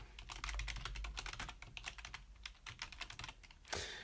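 Keyboard typing on a computer, a quick run of close clicking keystrokes over about four seconds, ending in a brief louder burst of noise, with no talking.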